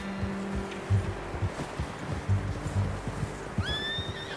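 A horse in Red Dead Redemption 2 snorts and whinnies softly while hooves clop irregularly at close range over a low ambient bed, with a brief higher whinny near the end.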